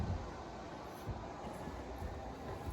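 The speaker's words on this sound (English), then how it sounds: "there's the passenger train coming through." A steady rumbling clatter of a model passenger train passing, continuous and moderately loud with faint rhythmic wheel clicks.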